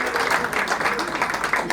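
Applause from guests at a dinner party, with dense clapping throughout the short moment and voices mixed in beneath.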